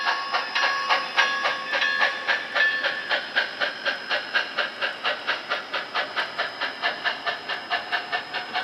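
Stock Athearn Genesis MT-4 model locomotive running with a steady, rhythmic steam chuff under a constant hiss, the beats evenly spaced and clear, with no talking.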